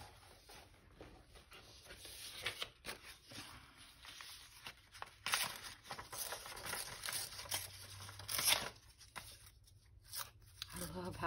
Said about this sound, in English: I love how this paper rips.